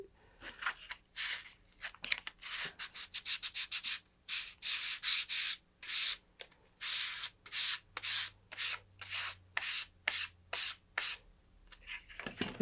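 Sandpaper rubs paint off a wooden model rocket fin in quick, rhythmic back-and-forth strokes, a close, dry scratching that comes in short bursts with brief pauses between, with no voices.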